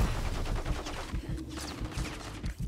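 Rapid gunfire in a first-person shooter video game with a small SMG, dense repeated shots crackling steadily throughout at moderate loudness.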